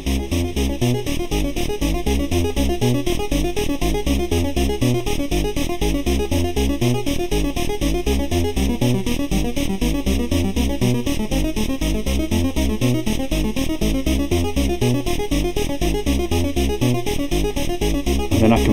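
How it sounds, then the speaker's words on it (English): Modular synth arpeggio driven by a KeyStep, a 3340 VCO pulse wave with subtle envelope-modulated pulse width, cycling rapid, even notes in a continuous bright buzzy pattern, steady and alone throughout. "I've got an arpeggio running on the key step"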